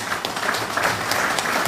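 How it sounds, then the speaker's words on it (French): Applause from an audience at a political gathering honouring opposition party representatives, a brief, dense, steady patter of many hands clapping. "je demanderai des applaudissements sincères et"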